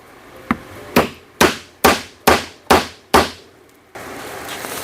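Sharp hammer blows set rivets in a leather axe mask, seven distinct strikes spaced roughly half a second apart, each ringing briefly before decaying, then a quieter steady background.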